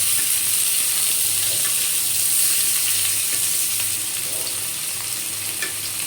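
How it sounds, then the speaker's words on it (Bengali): Chopped onions frying in hot oil, giving a steady, close hiss that stays even throughout with only faint clicks from the pan. "পেঁয়াজ কুচোগুলো দিয়ে দিলাম, একটু ভেজে নেব।"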